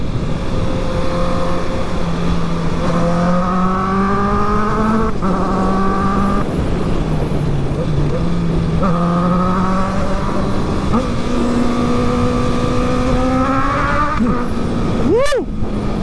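A Honda CB650R motorcycle with an OEM quickshifter revs hard through the gears, engine pitch climbing in long sweeps and dropping sharply at each quick upshift, loud and close with a brief faint whoop of a voice.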